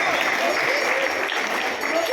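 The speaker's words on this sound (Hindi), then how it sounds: "जोरदार ताली हो जानी चाहिए बच्चे के लिए।" An audience at a Shrimad Bhagwat Katha religious gathering claps for a child, a steady wash of applause lasting a couple of seconds at moderate loudness, with voices mixed in.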